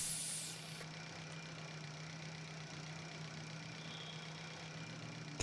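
A shuttle engine hums steadily in the space survival game Breathedge, a low, even drone that is faint and continuous, with a short burst of hiss at the start.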